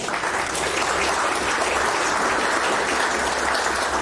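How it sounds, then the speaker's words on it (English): A hall audience at a boxing hall of fame award ceremony applauds loudly and continuously, thick sustained clapping for an honoree coming up. "Round of applause for Peter."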